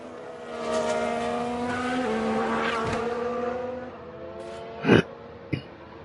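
F1 Manager 22 race cars overtaking at Sakhir, high engine whines layered and shifting pitch as cars pass, followed by a couple of sharp short bursts near the end, no talk.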